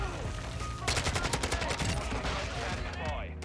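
Rapid bursts of Kastov-74u SMG fire in Modern Warfare 2 on the Shipment map, loud and close, with dense automatic rattling through most of the stretch over busy game noise.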